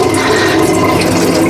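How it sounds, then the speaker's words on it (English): Rice is rinsed in a pot, with water swirling and sloshing in a continuous, fairly loud rush close by and no speech. "put some water in the pot, wash it around, and that will help wash out that starch"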